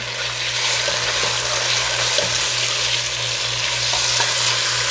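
Marinated chicken fries in hot oil as it is stirred for a spicy Thai chicken soup, giving a loud, dense, continuous sizzle with a low steady hum underneath and no talking.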